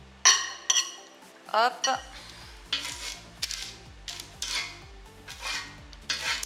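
A large spoon scrapes and clinks against a plate and pan while cooked asparagus and onions are served, with repeated sharp metallic taps and short scraping strokes; a voice speaks briefly.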